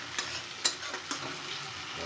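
Mutton frying in a pan gives a soft, steady sizzle, with a few brief scraping knocks as it is stirred.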